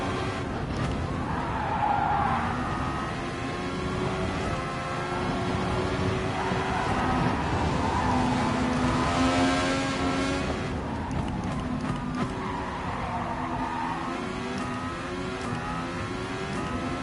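Race car engine in Gran Turismo Sport, revving and shifting through gears in a continuous loud drone with rising and falling pitch across a lap.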